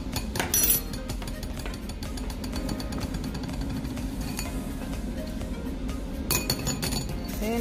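A spoon of powder is tipped into a metal strainer, giving bright clinks and taps at the start and again near the end over a low, steady background rumble.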